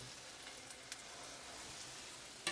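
Grilled cheese sandwiches fry on a hot griddle in butter, mayonnaise and oil, giving a soft, steady sizzle with a couple of brief pops.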